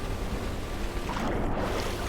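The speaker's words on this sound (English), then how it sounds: "I'm just pushed around by the waves, my small engine trying to cope with it" Ocean waves toss a small boat with a labouring small engine in the Stormworks video game, a steady loud broadband wash of surf and wind rolling on without a break for the whole stretch.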